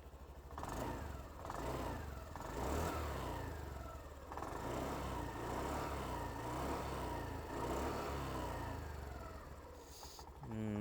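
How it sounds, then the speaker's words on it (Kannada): A Honda Dio 110 scooter's exhaust runs steadily close by, a continuous mid-pitched engine note with slight rises, loud and fairly even throughout, with no talk over it. "ಬನ್ನಿ ನಿಮಗೆ ಎಕ್ಸಾಸ್ಟ್ ನೋಟ್ ಒಂದು ತೋರಿಸ್ಬಿಡೋದ ಕೇಳಿಸ್ಬಿಡ್ತೀನಿ ನಿಮಗೆ"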